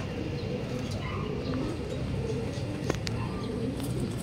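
Racing pigeons coo softly during a club training release in Lucban, Quezon, faint low murmurs over steady outdoor background noise with a few brief chirps and a small click.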